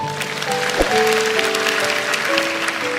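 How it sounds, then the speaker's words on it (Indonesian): A church congregation applauds in praise of God during a sermon, steady clapping filling the room for about three seconds while sustained organ or keyboard tones hum underneath. "Kasih tepuk tangan untuk Tuhan"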